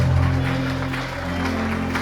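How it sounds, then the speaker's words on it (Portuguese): Congregation applauding during an evening church service, a steady wash of clapping with crowd noise and low organ or keyboard tones sustained underneath, lasting a couple of seconds. "Você pode aplaudir o Senhor nesta noite."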